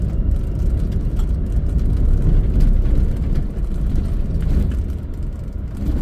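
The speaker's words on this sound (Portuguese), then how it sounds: "Bastante caminhão vindo no sentido contrário." Trucks pass in the opposite direction on the Transamazônica highway (BR-230) near Apuí, heard as a steady loud road rumble and whir from the moving vehicle, with no talking.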